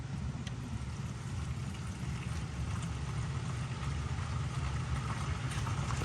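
Water gushing from a full tank through a valve into a filling container, a steady, dense rushing flow with a low rumble, constant and fairly close.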